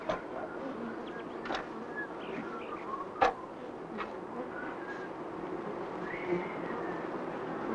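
Honey bees buzz around a hive with a beekeeper's smoker nearby, a soft continuous hum with individual bees droning close past the microphone and a few sharp clicks, no voices.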